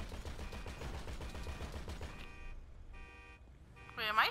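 Rapid automatic gunfire in GTA V Online rattles off in a fast, steady stream, then gives way to beeping game sounds, with a voice breaking in at the end.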